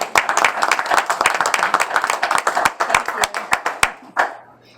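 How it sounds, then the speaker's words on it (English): Board meeting audience gives a loud round of applause, dense overlapping claps sustained for several seconds before trailing off to a few scattered claps. "you deserve another round of applause."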